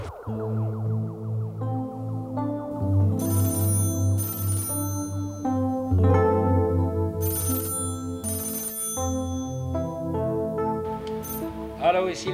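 A telephone rings in a bar by a canal, its repeated electronic ringtone tones carrying over background music and chatter before the call is answered.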